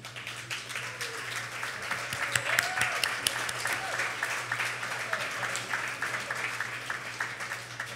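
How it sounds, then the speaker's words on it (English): Audience at a live game show giving themselves a round of applause, a sustained, fairly distant wash of clapping over a steady low hum, with faint voices underneath. "give yourselves a round of applause"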